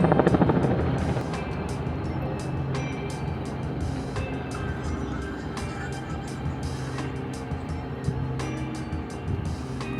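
A police helicopter drones overhead above downtown Los Angeles streets, a steady rotor rumble under city traffic noise and occasional clicks, with voices nearby.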